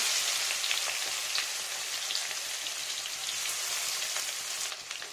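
Chopped onion frying in foaming caramelized sugar and oil for a Mrigal fish soup, a dense, steady sizzle close up with scattered crackles, easing off slightly at the end.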